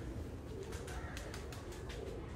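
A plain pigeon coos faintly and softly under a steady background hiss, the calls low and muffled.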